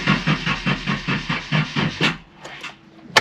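The engine of a Nissan Silvia S12 turns over on the starter, giving a rhythmic cranking chug repeated about nine times over two seconds. It then stops, leaving faint clicks and a quiet pause, all close up.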